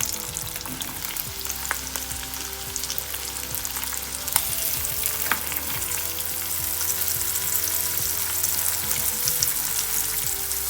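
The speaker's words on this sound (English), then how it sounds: "Now I'm going to saute the mushroom into the same pan." Mushrooms sauté in a frying pan used earlier for bacon while an English breakfast is cooked, giving a loud, steady sizzling hiss throughout with occasional sharp crackles and spatula taps.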